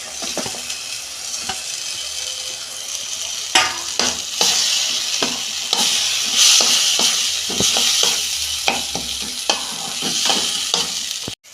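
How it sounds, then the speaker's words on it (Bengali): A tomato chutney with dates and raisins sizzles steadily in a pan while being stirred, with repeated clacks and scrapes of a spoon over the continuous close frying hiss. "দেখুন বন্ধুরা টমেটোটা গলে গেছে আমি খেঁজুর আর কিশমিশ সব একসঙ্গে দিয়ে দিচ্ছি"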